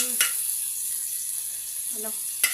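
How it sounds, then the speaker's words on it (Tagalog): Garlic and onion frying in boiling oil, a steady bright sizzle throughout with two or three brief stirring scrapes, close and fairly loud, with no talk. "bawang at sibuyas sa kumukulo na mantika"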